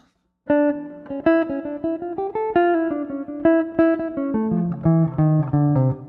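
Jazz guitar runs a dominant line over a five chord, a steady stream of plucked single notes rising and then falling into lower sustained tones, played close with no voice.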